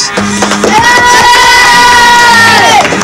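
Studio audience of children cheering and shouting loudly together, with sustained high voices and whoops rising and falling.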